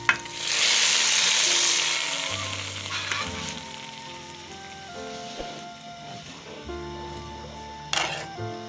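Tadka of whole red chillies sizzles loudly in hot oil for chicken haleem, a bright, steady hiss that flares at the start and settles into a lower crackle with a few stirring clinks.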